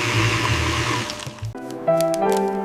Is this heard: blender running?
yes